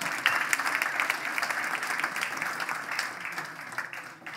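At a product launch event, an audience gives a sustained round of applause, with many hands clapping together in a steady, fairly distant roar that tapers slightly toward the end.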